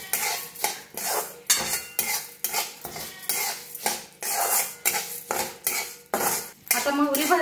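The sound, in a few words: mustard seeds being roasted and stirred in oil in a pan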